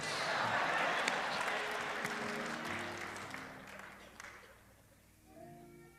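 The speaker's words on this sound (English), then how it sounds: "But I saw him over there clapping his hands." Applause from a crowd in a church, dense and fairly loud, gradually fading toward the end as a voice begins over it.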